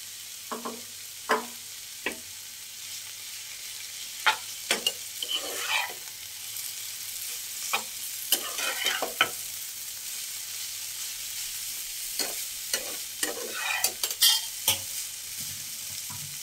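Chowmein noodles tossed and stir-fried in a pan with vegetables for egg chowmein, a continuous soft sizzle under irregular clattering spatula scrapes and knocks, close by and without speech.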